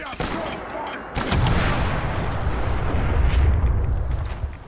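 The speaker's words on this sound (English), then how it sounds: "Cinematic Explosions specifically improves the sound quality of grenades, mini-nukes, and so on to sound much louder and earth-shaking." Explosions and gunfire in the video game Fallout 4 with the Cinematic Explosions mod, which makes grenades and mini-nukes louder: sharp blasts near the start and at about one second, then dense, continuous heavy rumbling booms.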